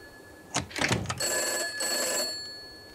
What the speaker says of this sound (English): loud ass phone